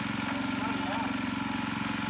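Well drilling rig engine running steadily while pulling up the drill bit at a volunteer water-well site, a continuous loud idling drone with a low rumbling pulse throughout.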